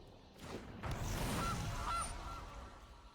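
Gilded Goose honk in the video game MTG Arena: a short cartoonish goose call with a couple of bright honking notes, clear and up front over a soft game background.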